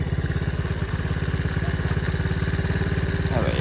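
A pit bike engine idling on choke, a fast, even thudding putter that runs close and steady with no pauses.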